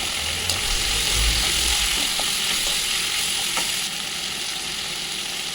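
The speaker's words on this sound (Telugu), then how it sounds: "ఇప్పుడు తరుక్కున్న వంకాయల్ని వేసి" Chopped brinjal tumbles into a pan holding tomato, onion and spices, cooking for vangi bath, Karnataka-style brinjal rice; a steady loud sizzle and frying hiss run throughout with clattering stirring, and nobody speaks.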